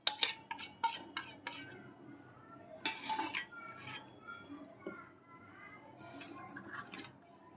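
A spoon stirs and scrapes ground thandai powder with rock sugar and fennel in a bowl, giving quiet clinks and irregular scraping strokes with a few sharper taps, close by.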